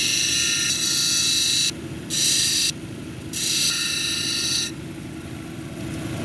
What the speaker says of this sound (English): Now I'm going to grind on this top piece right here, this top edge